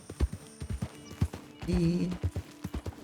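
Horse hooves clip-clopping in Red Dead Redemption 2, a steady run of hoofbeats mixed with game sounds, with a person talking over part of it.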